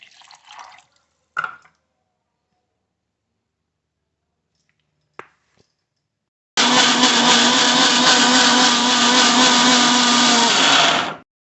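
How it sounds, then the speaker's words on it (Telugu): A few faint clinks and knocks, then a mixer grinder blending soya beans with water whirs loudly and steadily for several seconds before cutting off abruptly. "ఇలా సోయా గింజల్ని కొద్దిగా మిక్సీలో వేసుకొని మిక్సీ పట్టుకోవాలి"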